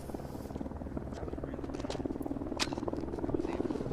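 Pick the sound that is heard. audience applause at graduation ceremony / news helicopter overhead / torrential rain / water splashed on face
news helicopter overhead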